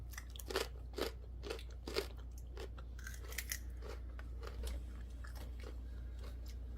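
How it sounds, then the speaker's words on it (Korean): Raw blue-green radish, freshly pulled, being bitten and chewed: a series of sharp, close crunches in the first few seconds, then softer, irregular chewing over a steady low hum. "무가 얼마나 달큰달큰한지 한번 맛좀 볼까?"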